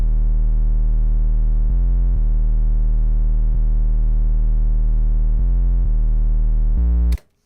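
A deep, buzzy 808 bass processed with distortion and EQ, playing sustained low notes that shift pitch a few times, loud and alone, ending with a brief click.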